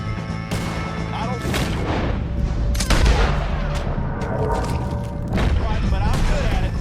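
Gunfire in the Western video game Red Dead Redemption: repeated loud shots and booming blasts in a close shootout, with characters shouting over the fire.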